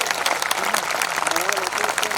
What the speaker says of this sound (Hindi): मुझे भी तालियों की गड़गड़ाहट अच्छी लगती है।